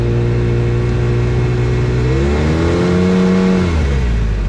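An Arctic Cat WildCat 700 Trail side-by-side idles loud and close while warming up in the snow, its steady droning engine note briefly rising in a short rev before settling back.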